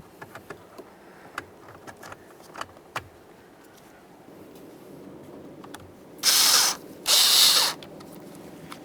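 A few faint clicks from a ratchet starting the combination switch mounting bolts on a 2015-2020 Ford F-150, followed by two short, loud bursts of a power tool close by.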